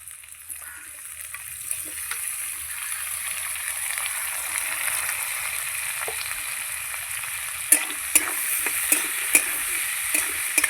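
Raw tomato goes into a frying pan with lightly fried onion, bringing a continuous soft sizzle that builds gradually, then sharp scraping clicks of stirring near the end.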